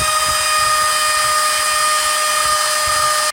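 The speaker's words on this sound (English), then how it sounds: "with a diamond tip and go in and make the cavity that the electronics go in bigger so that everything will fit" A Dremel rotary tool fitted with a diamond tip grinds out a guitar's electronics cavity, a steady high-pitched whine holding constant for about three seconds before cutting off abruptly.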